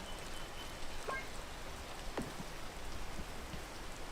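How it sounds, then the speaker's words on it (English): Steady video-game rain hisses evenly and continuously in the background, with a couple of faint chirps or blips over the top; no one speaks. "Will it stop raining already?"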